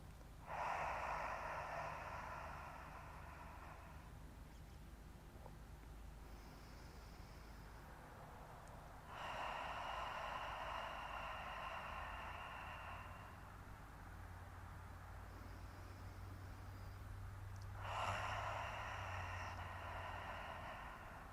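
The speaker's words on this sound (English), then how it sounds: "Now we will do 5 Ujjayi breaths." Slow, audible yoga breaths in the Ujjayi style, three long airy inhale-exhale phases of several seconds each, close to the listener, with a steady hiss between them and no talk.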